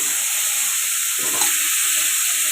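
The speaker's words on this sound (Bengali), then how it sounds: "এতিয়া আলুটো পেলাই দিছে আৰু এতিয়া আলুটো ফ্ৰাই হৈ যাব" Potatoes frying in a pan after onion and chili have been browned, giving a steady, loud hiss of sizzling oil that fills the whole clip with only a faint stir in the middle.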